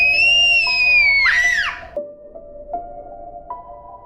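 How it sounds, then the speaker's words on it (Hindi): A high, wavering scream effect from a horror animation set in a hospital rises and bends for about two seconds, then cuts to a quieter stretch with a few soft thuds. "तभी दोबारा वही चीखने की आवाज़ आई।"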